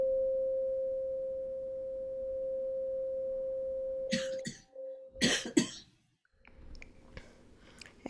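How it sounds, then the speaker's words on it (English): A woman coughs in a short cluster of harsh bursts after a long steady tone fades, followed by quieter throat sounds and faint clicks in a calm, hushed room. "So she's coughing up."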